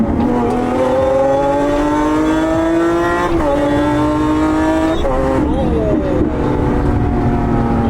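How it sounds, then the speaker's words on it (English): A sports car in Corsa mode accelerates hard, its engine note climbing steadily through each gear, with sharp, quick upshifts near 3.5 and 5 seconds before the revs rise again, loud and close. "now I'll just drop it in Corsa mode and I'll show you how fast it shifts"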